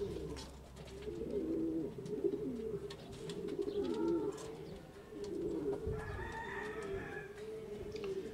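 Sport pigeons coo softly in low, throaty rolling calls, close by, with a few faint higher bird notes in the background, in Cullera, Valencia.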